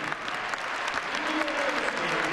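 Applause ripples through the crowd at a Benetton Treviso vs Pau Orthez basketball game, a steady patter of many hands with crowd noise beneath it.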